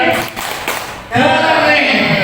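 At a school staff work meeting and training session in Jakarta, the audience breaks into a short rhythmic group clap, loud and close, following a few scattered taps over talk.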